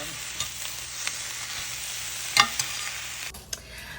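Food frying in a pan coated with olive oil spray and seasoned with salt, pepper and garlic, alongside steak and cauliflower rice; a steady close sizzle with a few stirring scrapes and clatters, no talking.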